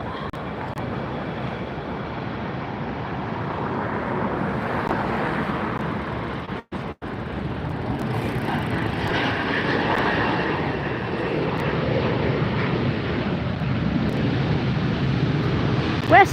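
A jet airliner departing Los Angeles airport gives a continuous broad engine rumble that swells slightly, with a momentary dropout partway through and a steady roar again after.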